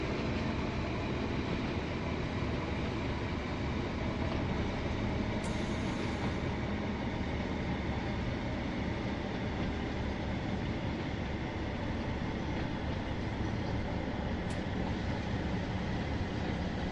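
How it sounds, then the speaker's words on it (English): Simulated train running on the West Cornwall line in Train Sim World 5, a continuous dense rumble of wheels and engine at steady loudness with a couple of brief high clicks, no talk. "Short train."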